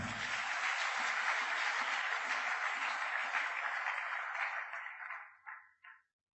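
A church congregation breaks into sustained loud applause and cheering, the dense clapping holding steady for several seconds before thinning out and fading to silence.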